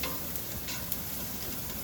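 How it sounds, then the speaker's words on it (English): Chopped garlic, about four cloves, sizzles steadily in a pan while being stirred, a continuous close frying hiss with faint scraping for healthy mushroom soup, no talk. "I'm going to add 4 cloves of chopped garlic. And I'm going to give that a stir for like 30 seconds"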